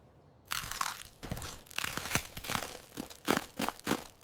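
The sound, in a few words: crunchy snack being eaten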